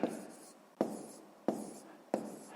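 A pen writes numbers by hand on paper during a sixth-grade maths exercise, making four close, quiet scratchy strokes evenly spaced with soft fading tails.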